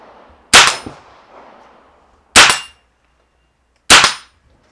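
Three sharp, loud small-calibre gunshots at a shooting range, each a crisp crack with a brief ringing tail, spaced unevenly over a few seconds with near silence between them.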